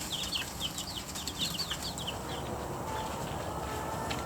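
Young chicks in a backyard peep rapidly in a cluster of high chirps, then fade into soft background noise.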